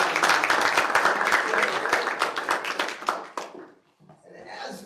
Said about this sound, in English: if we could just extend the applause for Doug Bradley for a moment.